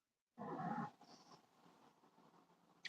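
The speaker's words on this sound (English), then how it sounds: "It's weird. I can hear a cat," A cat meows once nearby in the dark, a short loud call followed by faint fainter background sounds and a small click near the end.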